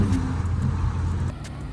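Lowered 10th gen Honda Accord with an aftermarket exhaust, heard from inside while driving: a steady low engine and exhaust drone with a light rumble, continuous and fairly close, easing slightly near the end.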